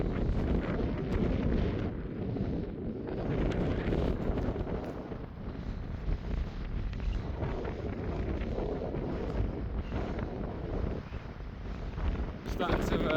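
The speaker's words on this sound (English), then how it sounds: "It's a bit windy." Strong wind buffets the microphone on top of Thornworthy Tor on Dartmoor, a continuous loud rumbling roar with gusty surges throughout.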